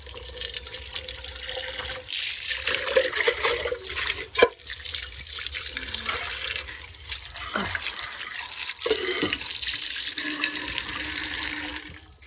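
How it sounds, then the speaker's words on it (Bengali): Water running from a tap over a tiffin box being washed at a sink, a steady splashing flow with occasional clinks and knocks of the container, close by with no talking. "টিফিনটা এখন ধুয়ে নেবো ভালো করে"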